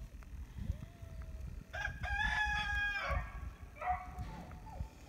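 Chickens call out from a backyard poultry setting during a scaly leg mite treatment, with a clear crow-like cluck sequence in the middle and a softer call near the end over low background rumble.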